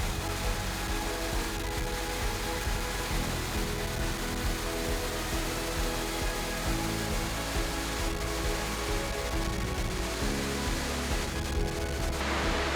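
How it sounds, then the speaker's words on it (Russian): A waterfall roars steadily and loudly, heard at its base in an Alpine valley in Italy, its dense rushing noise mixed with gusting wind, continuous throughout with no voices. "Я подошла к самому основанию водопада, там невероятный ветер и шум."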